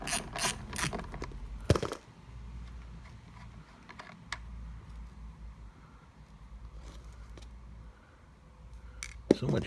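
A short ratchet wrench clicks while removing a wheel from a Hart 40V self-propelled lawn mower, with bursts of loud mechanical clatter at the start and end and quieter intermittent clicking between.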